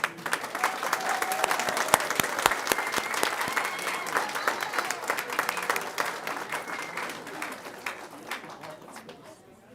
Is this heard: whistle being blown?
no